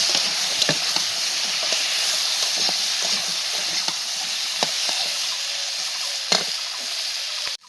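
Potatoes and taro being stirred in a hot pan, a steady hissing sizzle punctuated by irregular scraping clicks from the spoon, close and continuous until it cuts off abruptly at the end.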